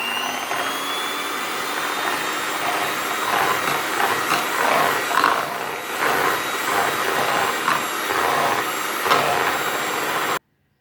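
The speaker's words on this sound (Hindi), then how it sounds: "अगर आपके पास ये इलेक्ट्रिक बीटर हो इलेक्ट्रिक बीटर से बीट कर लें। अब हम जर्दी को बीट करेंगे" An electric beater whirs steadily as it beats egg yolks for a vanilla tea cake, a continuous close mechanical drone with slight rises and dips that stops abruptly at the end.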